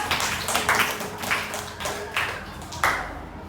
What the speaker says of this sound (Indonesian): Tepuk tangan untuk kelompok santun.